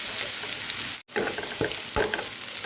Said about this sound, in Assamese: আৰু এই পিঁয়াজখিনি একেবাৰে ক্ৰিপচি হোৱালৈকে মই ফ্ৰাই কৰি ল'ম